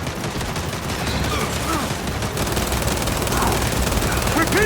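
Enemy turrets firing in Gears 5: rapid, continuous bursts of heavy automatic gunfire, loud and dense, with indistinct shouting voices mixed in beneath.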